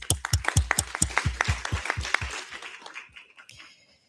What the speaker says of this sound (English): I'd just really like to give a round of applause to the organizers